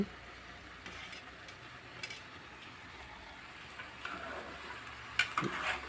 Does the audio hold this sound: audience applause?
no